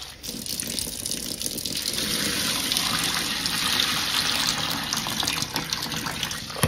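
Tap water runs in a steady gush into a container as wild bird seed is rinsed, a continuous close splashing flow that grows slightly fuller over several seconds.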